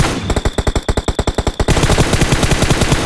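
Rapid automatic gunfire in the PUBG video game, a fast burst of about twenty evenly spaced sharp shots followed by a dense continuous rattle, loud and close with no talk.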